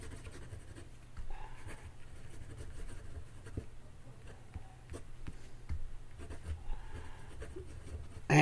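A Noodler's fountain pen scratches across composition paper in short, quiet strokes up close, with brief gaps between them and no voices.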